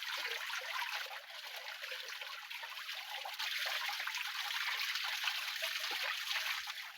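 Cold spring water trickles and splashes in a steady, close, gentle rush that stays even throughout, with no voices.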